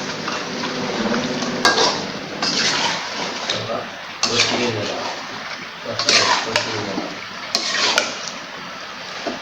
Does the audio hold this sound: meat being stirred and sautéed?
yes